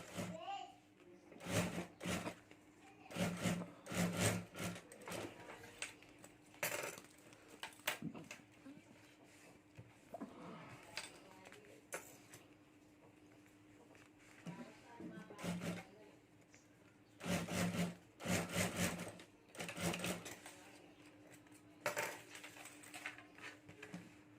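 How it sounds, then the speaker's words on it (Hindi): A sewing machine stitches the lining of a homemade luggage bag in repeated short bursts of rapid mechanical chatter with a low motor hum, with a voice talking between the runs. "और यहाँ भी ऊपर में एक सिलाई कर देनी है, तो यहाँ भी मैं सिलाई कर देता हूँ।"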